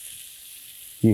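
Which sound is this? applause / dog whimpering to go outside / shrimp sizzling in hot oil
shrimp sizzling in hot oil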